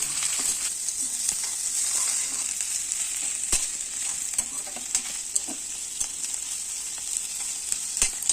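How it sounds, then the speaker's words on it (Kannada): Sliced onions, green chillies and garlic fry in hot oil on a stove, a constant bright sizzle broken by occasional spoon clicks from stirring, close and with no voices. "ನೀರುಳ್ಳಿ, ಹಸಿಮೆಣಸಿನಕಾಯಿ, ಬೆಳ್ಳುಳ್ಳಿಯನ್ನು ಕಂದು ಬಣ್ಣ ಬರುವವರೆಗೂ ಫ್ರೈ ಮಾಡಬೇಕು."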